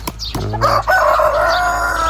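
An Andijan rooster crows loudly and close by, a drawn-out call following a few short clucks.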